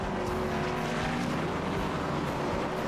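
A red Ferrari stock car races in a sim racing video game, its engine a dense, steady roar with other cars mixed in, loud and unbroken throughout.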